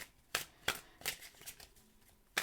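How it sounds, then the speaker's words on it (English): Tarot cards being shuffled in quick riffling bursts, several crisp flutters in a row, close and fairly quiet with no talking. "Let's give the cards a shuffle."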